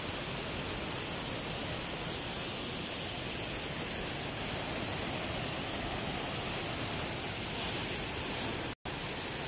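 Daranak Falls pours down with a powerful, steady roar of rushing water, dense and unbroken from start to finish with a brief dropout near the end.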